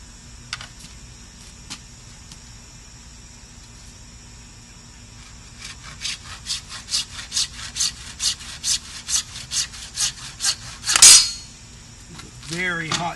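A hand saw with a built-in square cuts wood outdoors on a hot day, at first faint, then a steady run of loud, close rhythmic strokes that builds to a final heavy stroke, with a brief clatter at the end.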